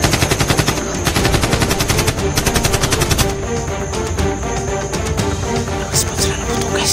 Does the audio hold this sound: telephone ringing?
no